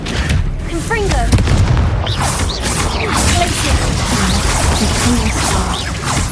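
A Confringo fire spell bursts in Hogwarts Legacy gameplay, a loud booming blast with whooshing, crackling debris and layered battle effects that fill the whole moment.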